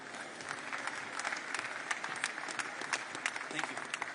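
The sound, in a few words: audience applauding Sam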